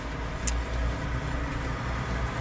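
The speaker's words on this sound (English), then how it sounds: "there's trailer trucks just pulling up now out of nowhere" Trailer trucks pull into a parking lot, producing a steady low engine rumble in the background that holds for the whole stretch without breaks.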